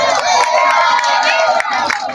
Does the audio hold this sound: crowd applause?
yes